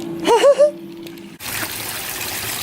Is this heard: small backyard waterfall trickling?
yes